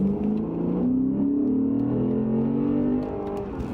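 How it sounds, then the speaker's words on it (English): A Lexus RC F's naturally aspirated V8 engine revs up with a rising, throaty drone that climbs steadily, then drops off as it upshifts, close and loud. "It's a V8 engine, normally aspirated"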